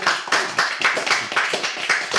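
Rhythmic hand clapping from an audience applauding a performer at a museum fable reading, about eight brisk, even claps in a row, close and fairly loud with no talking over them.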